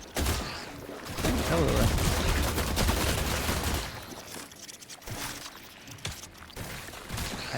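Rapid bursts of gunfire from The Last Caretaker video game, a loud sustained volley followed by scattered shots, with someone speaking briefly over it.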